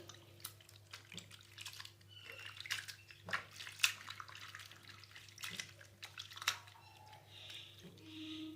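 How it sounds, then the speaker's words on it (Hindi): Grated potatoes are rinsed in water to wash out the starch, giving soft splashing, dripping and squishing sounds nearby, with a steady low hum running underneath. "अब हम इसमें पानी डालेंगे और इसे अच्छी तरह से वॉश कर लेंगे इसका स्टार्च खत्म करने के लिए।"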